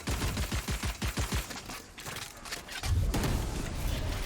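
Rapid bursts of automatic gunfire from the video game Valorant during a professional esports match, a dense rattling string of shots in the first second and a half, then a heavier sustained roar of weapon fire and effects.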